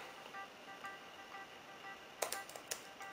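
A keyboard attached to a KIANO Elegance 9.7 tablet is tapped in a few quiet, close keystrokes near the end, over a faint steady background hum.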